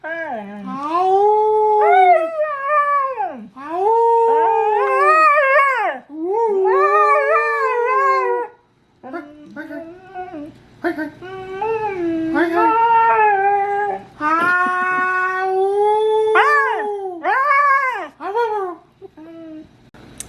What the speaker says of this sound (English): So Zoe, she doesn't really know how to howl.